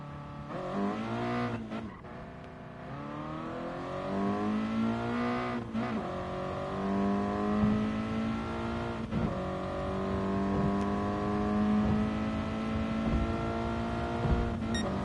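Race car engine in a racing video game, held at steady high revs through laps with rising and falling pitch as gears shift and brief dips under braking, loud and continuous with no talk.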